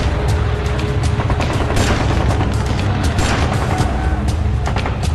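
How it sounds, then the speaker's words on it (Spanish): Dense, continuous gunfire with overlapping shots and booms, loud and chaotic throughout, with a constant roar of noise underneath. "Y devuelven el fuego."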